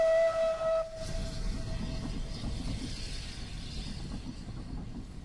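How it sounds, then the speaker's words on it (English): A train rumbles into a station in a radio-drama scene, a whistle sounding briefly at the start before the low, steady rumble and clatter of the cars carries on alone. "The train rumbled into the station, its cars clattering as they slowed to a stop."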